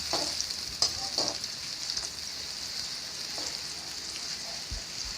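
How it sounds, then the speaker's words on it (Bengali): Onions frying in hot oil in a wok, a steady close sizzle with occasional stirring scrapes and no voices. "তেলগুলো গরম হলে পেঁয়াজগুলো এর মাঝে ঢেলে দিচ্ছি"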